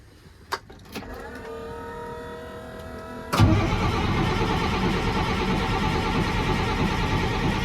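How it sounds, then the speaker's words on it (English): An old truck that has sat unused for a while is started: a couple of clicks, then a long steady cranking whine, and finally the engine catches and runs with a loud, rough, continuous roar. "we're gonna first see if this truck will even start"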